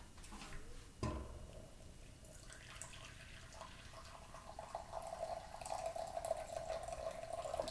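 Boiling water is poured into a measuring cup in a kitchen, a faint thud followed by a gentle trickle that grows into a steadier, brighter pour toward the end.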